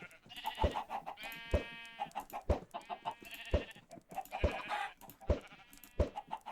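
Sheep and chickens in the Minecraft video game make repeated bleats and clucks in an irregular rhythm, the game's animal sounds overlapping at a moderate level with sharp thumps between calls.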